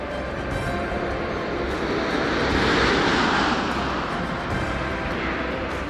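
Space Shuttle Atlantis comes in to land on its final flight, a distant broad roaring rush that swells slightly in the middle and then stays steady.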